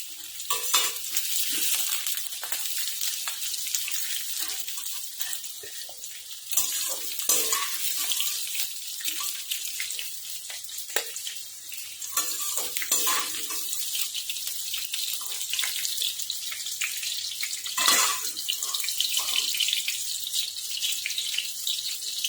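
Whole onions frying in oil in a pan, a continuous sizzle with frequent stirring clatter and scraping, moderately loud and unbroken.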